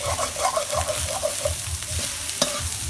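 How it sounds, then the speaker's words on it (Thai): Steady scraping and clanking of an oversized spatula tossing shrimp fried rice in a wok, repeating in a quick rhythm over a constant background sizzle. "แล้วก็ผัดก่อน รอบหนึ่งเนาะผัดให้มันเข้ากัน"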